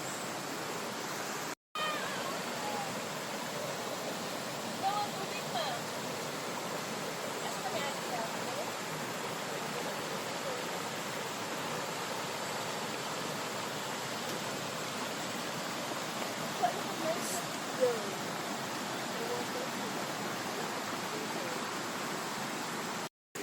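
River water rushing steadily at a mountain spring resort, a broad continuous hiss of flowing water heard close and even, with brief clicks and no clear talk.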